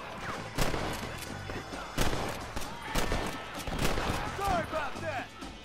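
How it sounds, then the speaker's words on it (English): Gunshots in Red Dead Redemption, a handful of sharp reports spaced about a second apart over game ambience, with someone talking between them. "eu dei um tiro na cabeça do cara"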